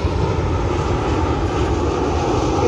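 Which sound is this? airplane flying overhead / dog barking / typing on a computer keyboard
airplane flying overhead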